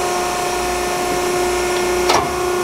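A 7.3 PowerStroke diesel engine idles during injector calibration, a steady loud drone with a constant whine, and a brief sharp clatter near the end.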